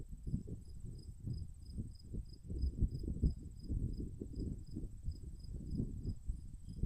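A cricket chirps outdoors in a steady, evenly spaced pulse at moderate distance, over a low rumble of wind gusting through trees during a Michigan bike tour.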